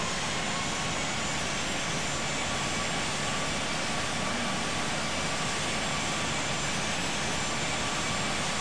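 Boeing 747 jet engines roar at full takeoff power on runway 31R at Palm Springs in the Infinite Flight game, a loud, unbroken broadband rumble and hiss with no voices.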